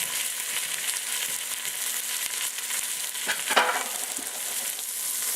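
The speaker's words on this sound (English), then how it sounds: "Get that sizzle. That's what we want." Chuck roast sizzles steadily in a hot pan, a continuous crackling hiss with a brief louder spatter partway through.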